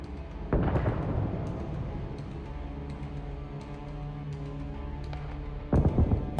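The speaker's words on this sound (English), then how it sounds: "After this explosion," Two explosions on a mined road in a war zone in Ukraine, caught in aerial drone footage, each a sharp, heavy blast with a rumbling tail, separated by several seconds of steady low background noise.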